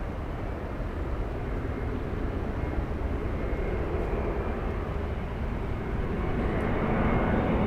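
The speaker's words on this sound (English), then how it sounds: "Arriving right now, we have Delta 634 flying in from Detroit, Michigan. That's an A321neo." A Delta Airbus A321neo arrives from Detroit at Los Angeles airport, heard as a continuous, fairly close engine roar that stays even and dense for the whole stretch, without voices.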